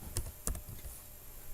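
Keys clatter on a computer keyboard in a couple of short bursts of clicks, close and fairly quiet, with a low hum underneath and no voices.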